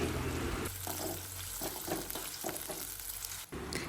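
Green chillies frying in a pan with a steady broadband sizzle and repeated stirring scrapes throughout, close and fairly loud, no talking.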